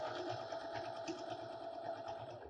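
A sewing machine stitches through quilt layers in a steady, rapid mechanical chatter, faint and continuous throughout.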